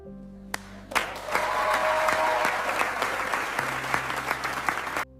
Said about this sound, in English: Let us clap for our 2 new friends today.